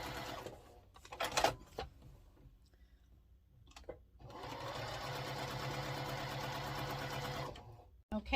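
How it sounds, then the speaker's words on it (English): A sewing machine runs in two bursts while it stitches along both sides of the line on half square triangle quilt pieces: a short whir near the start, then a longer steady run, with quiet handling noises between them. "we're just going to sew on both sides of that line, just typical half square triangle"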